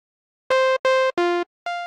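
Four short synthesizer notes from a default initialized patch with a bright, buzzy tone, played one after another with abrupt starts and stops, clear and close.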